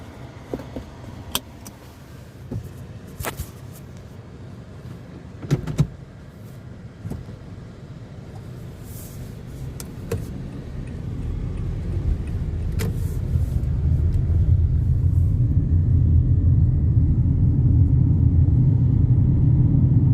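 A 2017 Toyota Camry LE sets off and drives: scattered clicks and rattles give way to a low engine and road rumble that swells steadily and stays loud to the end.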